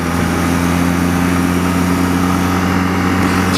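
An old motorbike engine runs steadily and loudly throughout, a close, continuous droning hum with no talk over it.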